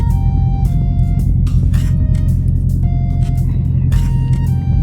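The engine of a 2019 Dodge Charger Scat Pack idles with a deep, close rumble, knocking and shaking. A steady low throb carries a faint rhythmic tick, and a voice talks over it.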